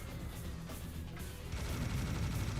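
A minigun in a video game spins up into a sustained, dense stream of rapid fire, the roaring burst growing louder and fuller partway through, heard close with no talk over it.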